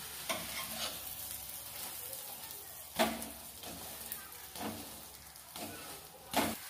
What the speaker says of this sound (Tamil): அந்த சைடு நல்லா கொஞ்சம் முட்டை வேகட்டும்